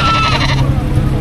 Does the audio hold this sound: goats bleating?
yes